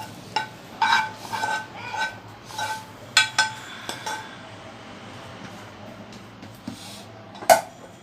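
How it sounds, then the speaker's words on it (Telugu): Food going onto a steel plate in a home kitchen, with a string of metallic clinks and knocks at an irregular pace, close and fairly loud, and one sharper clank near the end. "ఇప్పుడు దీన్ని ఇలా ఈ స్టీల్ ప్లేట్ మీద వేసుకున్నామండి"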